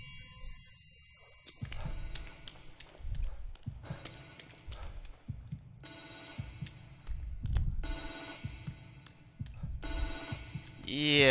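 A phone rings in The Evil Within horror video game: several bursts of electronic ringing repeat at intervals over dim ambient noise and occasional low thuds.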